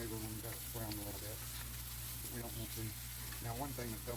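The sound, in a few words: bologna and grilled cheese frying in butter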